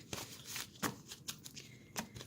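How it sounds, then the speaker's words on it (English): A deck of satin-finish Lenormand vintage oracle fortune telling cards is shuffled in several quick, crisp riffles and soft slides, close and quiet, with no talking. "Again, it shuffles beautifully with the stock."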